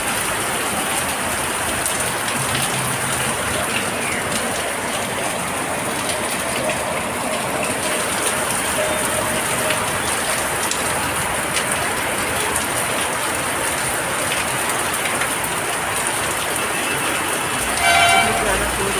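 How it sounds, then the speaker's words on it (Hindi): Heavy monsoon rain pours steadily across a city street during flooding, a dense continuous hiss with faint distant horns and a brief louder burst near the end; a voice talks over it. "देखो देखो इतनी बारिश हो रही है।"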